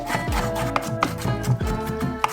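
Pickles chopped small with a knife, a series of quick, close taps on a board in an uneven rhythm, with no talk in between.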